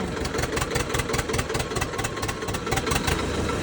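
Swaraj 735 tractor engine running steadily under load in fourth gear, a continuous loud diesel chug with a rapid even knock close by, no voices.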